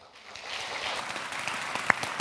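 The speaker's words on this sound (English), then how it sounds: "Please applause." A conference audience breaks into applause, a dense, even roar of many hands clapping that swells and holds, with one sharp nearby clap standing out near the end.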